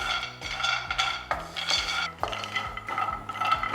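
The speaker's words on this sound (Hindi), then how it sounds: "हम 1 कप आलमंड को बिना ऑयल यूज किए रोस्ट कर लेंगे for about 2 to 3 minutes until they turn little golden" Almonds dry-roasting in a pan without oil, stirred with a utensil: a series of brisk scraping and clinking strokes against the pan, close and fairly loud, in an irregular rhythm with no talking.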